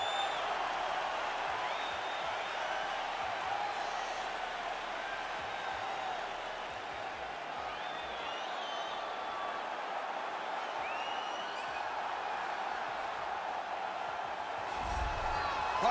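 A sold-out arena crowd at a UFC flyweight championship fight in the UFC 4 video game roars in a steady, distant wash of cheering that holds level throughout.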